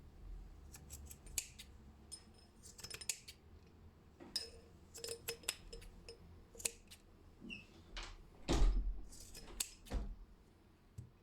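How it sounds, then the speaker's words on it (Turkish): Scissors snipping off excess macrame cords on a jar decoration, a series of sharp, close clicks and snips in irregular bursts with quiet pauses between. "Şimdi fazla olan iplerimi şöyle kesiyorum"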